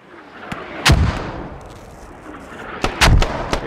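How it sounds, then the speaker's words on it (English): Two heavy booms of mortar rounds landing close by in the military shooter game Squad, each a sharp loud blast with a rumbling tail, with smaller cracks of gunfire scattered around them. "We got mortars landing like right on top of us."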